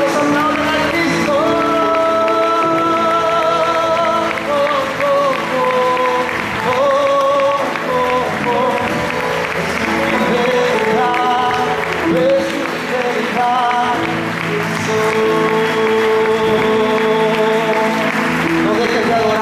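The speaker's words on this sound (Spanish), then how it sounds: "¿Cuántos aplauden a Cristo?" A church congregation applauds during worship, sustained clapping running under loud amplified music with sung and spoken voices throughout, the claps blending into the band rather than standing alone.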